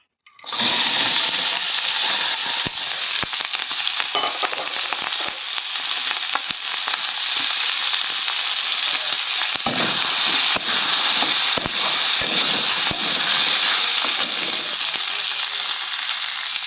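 Boiled taro and green chilies hit hot oil in a pan and burst into a loud, dense sizzle right after a quiet start, then crackle steadily and close throughout with scattered pops.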